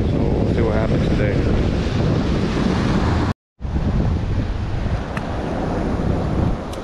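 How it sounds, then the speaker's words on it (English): Ocean waves wash against a beach jetty at low tide with a steady, loud broadband roar, heavy wind buffeting the microphone and a brief dropout midway; no one speaks. "Today it's a low tide and it's a lot more waves."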